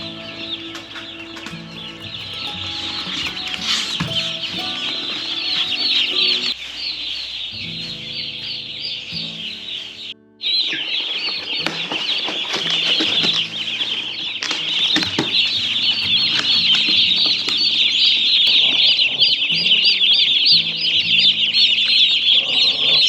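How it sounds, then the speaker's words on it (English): Young turkeys are unloaded in a barn: a dense, continuous chorus of high peeping calls with wing flapping and scuffling, loud and close throughout, with a brief break partway through. "Let's get these turkeys unloaded, dipped, and put near the food and near the heaters."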